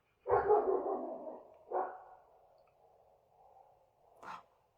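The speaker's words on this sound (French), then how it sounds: "Il y a tous les chiens du village là qui sont en train d'aboyer de partout" Several village dogs bark in the distance: a loud burst of barking up front, another bark shortly after, faint yaps in between and a last bark near the end, with no talk over them.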